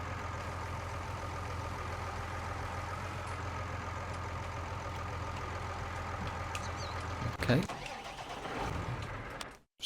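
A farm vehicle engine idles steadily in the video game Farming Simulator 19, a constant low drone throughout, with a brief clunk and a spoken word near the end before the sound drops out.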